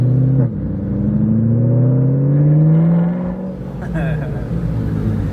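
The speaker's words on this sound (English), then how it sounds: "This new exhaust is so nasty." A car engine with a new aftermarket exhaust revs up and holds with a rising throaty exhaust note, then drops back, a voice briefly audible beneath it.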